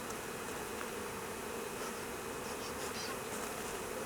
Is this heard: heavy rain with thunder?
no